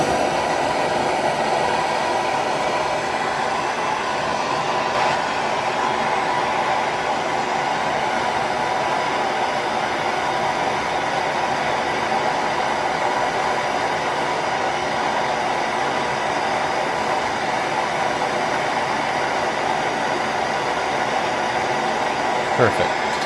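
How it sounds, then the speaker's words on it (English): A plumber's torch roars steadily while heating a copper adapter to sweat it onto a Moen 1222 tub and shower valve, a constant close broadband rush with a voice talking over it. "let's get this adapter sweated up and cooled off, and we'll get it in our valve here"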